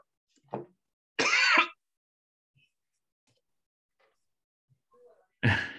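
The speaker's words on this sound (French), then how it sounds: "Non, je tousse, oui, c'est ça" A few sharp, close coughs break the quiet, separated by long silent gaps.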